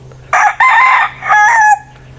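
A rooster crows close by, two loud harmonic calls in quick succession, the second drawn out and wavering, with a steady low hum beneath.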